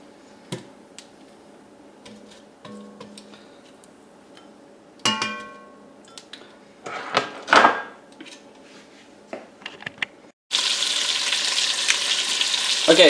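Pieces of meat for Cajun rice and gravy fry in hot grease. After scattered clinks and pan clatter, a loud, dense, continuous sizzle bursts up near the end.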